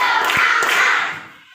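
Students in a classroom clap in unison during a 'tepuk' counting routine before a lesson, giving two or three crisp, evenly spaced group claps over a crowd-like wash that fades at the end.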